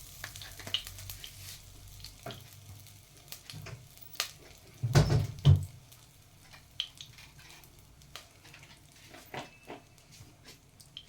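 Turmeric and asafoetida frying in hot oil in a home kitchen give a steady, soft sizzle. Midway comes a brief louder burst of crackling and stirring, which then settles back to a quiet hiss. Nobody speaks.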